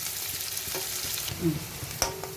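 Potatoes and onions fry together in a pan with a steady close sizzle, broken by a few soft stirring scrapes and clinks.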